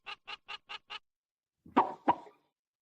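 Chickens in a backyard coop squabble: a run of five quick, evenly spaced clucks, then a pause before two louder, harsher squawks close to the listener.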